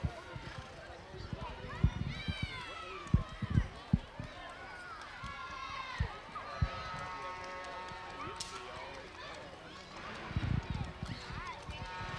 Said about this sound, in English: A number of horses riding down the street with the people on board